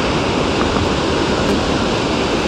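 A mountain river in Himachal Pradesh rushes past in a loud, steady roar of flowing water that fills the whole moment without letup.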